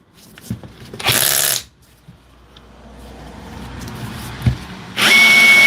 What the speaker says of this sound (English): I'm liking that hard hammer sound